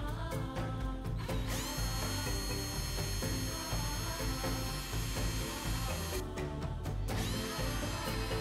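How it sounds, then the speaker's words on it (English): A small power drill bores nail holes for a mini ballista catapult, whining steadily at close range and briefly changing pitch as the bit bites, with no voices. "I used a small drill piece, which would allow these nails to fit through nicely."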